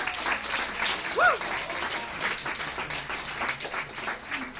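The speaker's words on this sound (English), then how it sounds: "Applause, that poet." Audience applause at a poetry slam after a poet's scores are read, steady dense clapping throughout with a crowd whoop near the start, close and fairly loud.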